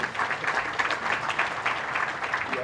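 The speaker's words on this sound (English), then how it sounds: "please welcome him with a thunderous round of applause." An audience at an African Union ministerial meeting on social development, labour and employment breaks into sustained applause, a dense, steady wash of many hands clapping close by for the whole stretch, with no voices over it.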